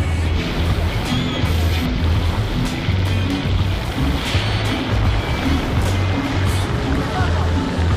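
Ocean surf washes continuously beside a riverside, oceanfront outdoor cooking spot in Jamaica, a steady loud roar of breaking waves with no quiet gaps.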